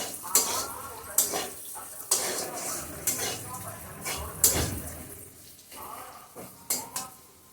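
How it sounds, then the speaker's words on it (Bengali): Gobindobhog rice frying and being stirred in a pan over a raised gas flame, with repeated scraping and clattering of a spatula against the pan, a low sizzle beneath, and a voice talking throughout. "চাল ভাজা হয়ে গেছে,"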